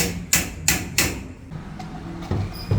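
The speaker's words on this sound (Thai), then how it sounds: "ตอกฉากเข้าไป" Three sharp, evenly spaced hammer blows drive metal angle trim into a sloped ceiling frame, followed by quieter knocks and handling sounds close by.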